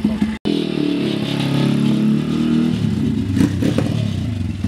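Pit bike engine revved hard close by, a steady loud rasping roar with throttle surges and rough clattering, briefly cut once near the start then sustained, no talk.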